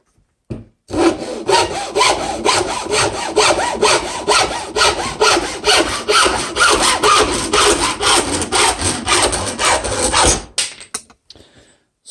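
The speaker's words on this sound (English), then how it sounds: "So just the saw in action." A homemade hand saw made from paint stir sticks rasps through wood in steady back-and-forth strokes, close and clear, about ten seconds of rhythmic cutting with no talking.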